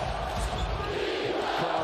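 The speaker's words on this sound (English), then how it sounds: "Crowd starting to come alive now." A basketball arena crowd during a playoff game hums and swells in a dense, distant roar, with sneaker and ball sounds faintly beneath.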